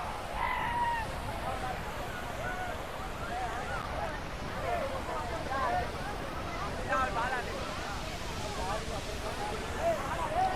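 Viripara waterfall in Munnar pours with a steady, broad rushing roar that holds without a break, while a crowd of visitors chatters over it.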